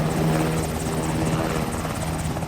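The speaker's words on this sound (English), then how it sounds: "it's this Black Hawk helicopter that will take off" A Black Hawk firefighting helicopter lifts off for a Marin County wildfire, its rotor and engine giving a loud, steady, close droning throb that holds without a break.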